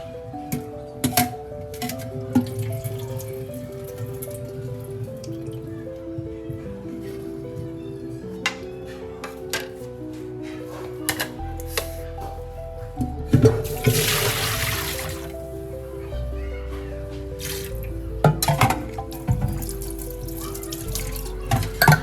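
Water splashes and trickles as spinach leaves are rinsed one by one, with drips and handling sounds over a steady background of music-like tones.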